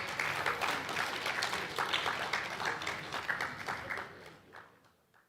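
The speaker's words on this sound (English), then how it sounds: "Can we give him another round of applause?" A conference audience at an oil and gas forum gives a round of applause, dense clapping that holds steady for about four seconds before tapering off to silence.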